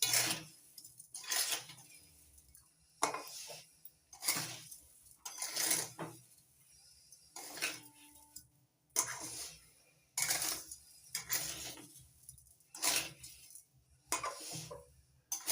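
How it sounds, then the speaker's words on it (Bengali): Raw papaya and sugar are stirred together in a pan, the spoon scraping and clinking against the metal in repeated, fairly close strokes with short quiet gaps between them. "এবার একটু নাড়াচাড়া করে মিশিয়ে নিচ্ছি।"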